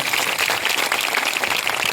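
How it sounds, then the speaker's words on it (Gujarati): A crowd applauds at a Gujarati farmers' gathering: dense, steady clapping from many hands, close and unbroken for the whole moment, with no voices over it. "એ તમામ માટે એકવાર જોરદાર તાળીઓ થઈ જાય."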